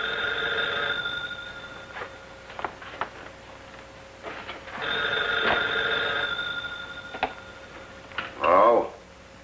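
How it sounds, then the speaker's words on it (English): An old-fashioned telephone bell rings in repeated long bursts, left unanswered, in a 1941 mystery film. Voices talk over and between the rings, and the ringing ends with a short clatter. "Why don't you answer your phone?"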